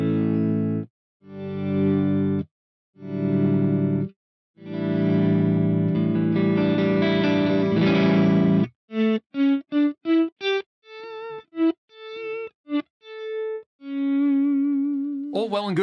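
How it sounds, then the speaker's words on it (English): An electric guitar fed through effects is played as volume swells using an expression pedal. It opens with several sustained, distorted chords that fade in, then moves to shorter wavering single notes with chorus and echo, close and clear. "So this is going to let me do volume swells with the pedal"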